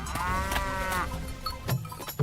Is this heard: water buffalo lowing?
yes